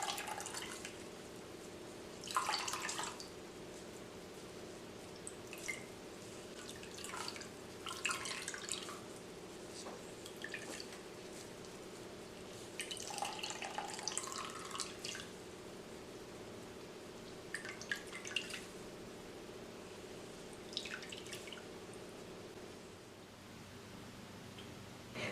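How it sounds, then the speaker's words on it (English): Liquid from coconut pulp squeezed by hand through cheesecloth drips and trickles into a bowl below, quiet with scattered short splashes over a steady low background hum. "Lift the edges of the cheesecloth and squeeze out the liquid with your hands."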